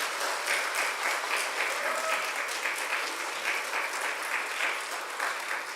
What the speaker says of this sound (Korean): 큰 환영의 박수 해주시면 감사합니다.